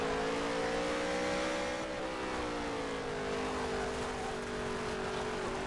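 Race cars at Charlotte Motor Speedway, a steady high engine drone with sliding pitch as the cars run down the front straightaway, loud and continuous without any break.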